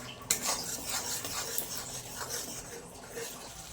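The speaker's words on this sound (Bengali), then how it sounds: "এবার এই মশলাটাকে খুব ভালো করে কষতে হবে।" Spice paste with cumin and Kashmiri chili powder being sautéed in a pan, with soft continuous scraping and stirring of a spoon against metal and a faint sizzle, close but quiet, no talking.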